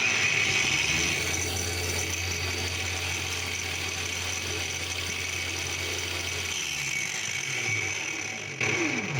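A Yuansen YSJM-A2 cordless angle grinder runs at its third speed of about 5900 rpm, a loud, close, steady high whine that holds even before a slight dip near the end.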